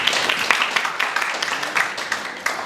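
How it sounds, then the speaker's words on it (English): An audience at a Swami Vivekanand Jayanti 2023 event applauds to welcome judge Mr. Ashok Malik, with loud, steady clapping that holds dense and unbroken throughout and no voices over it. "Please welcome with him a huge round of applause"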